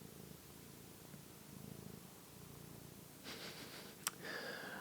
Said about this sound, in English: Are you purring into the microphone, Banshee?